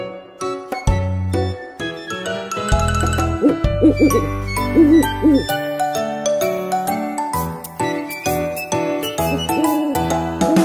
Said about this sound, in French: Dans un chêne vivait un vieux hibou.